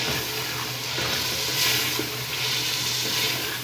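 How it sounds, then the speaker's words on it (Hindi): Mutton curry sizzles steadily in hot oil as potatoes go into the pan, a close, even frying hiss that holds at one level throughout with no talking. "अब इसमें आलू ऐड करते हैं"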